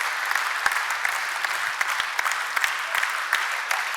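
A church congregation claps steadily together, a dense and even wash of applause running the whole time with a few sharper claps standing out close by. No voices rise above it.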